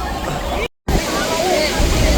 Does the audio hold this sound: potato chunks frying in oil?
no